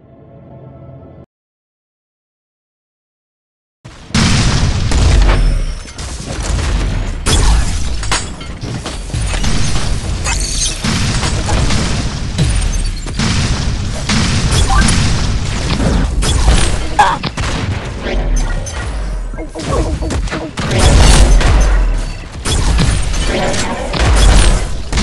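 Champion Solar Cannon fired repeatedly in Pixel Gun 3D gameplay, loud booming blasts and shattering bursts in a dense rapid string after a brief quiet opening, with faint voice traces underneath.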